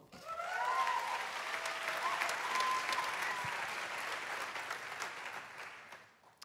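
Church congregation applauding at a Sunday night service in Zurich, a dense sustained wash of clapping with some cheering that swells and holds for several seconds before tapering off near the end.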